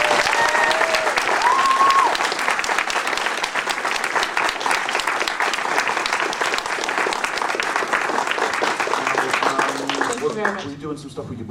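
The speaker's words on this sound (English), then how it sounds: "if I can have a huge round of applause" Sustained audience applause at a 2011 VIP fan event, dense and steady throughout with cheering voices mixed in, tapering off near the end.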